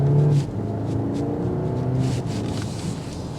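A 2024 BMW X4 xDrive30i SUV in Sport Plus mode accelerates with a steady, rising engine drone and low rumble heard from inside the cabin, continuous and fairly loud throughout.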